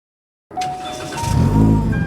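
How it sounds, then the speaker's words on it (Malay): Supercharged Perodua Bezza car starting off and driving, its engine note rising steadily and loudly from silence with a deep rumble and a faint whine, heard from inside the car. "Jom kita minta Ken bawa kereta dia."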